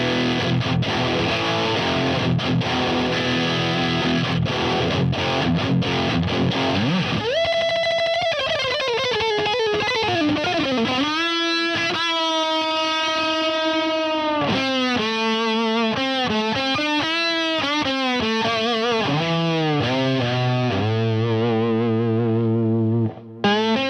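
Heavily distorted electric guitar playing sustained notes and chugging riffs, with a noisy, crunchy opening and clean silences gated between phrases later on.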